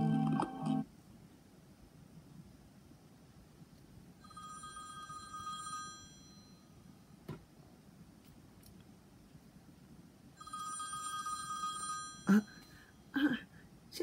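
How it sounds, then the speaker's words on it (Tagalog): An iPhone rings in two separate electronic bursts of a bright, tonal ringtone a few seconds apart, over a low background hum with a few faint clicks and knocks in between. "Nag-ring yung iPhone 24 ko?"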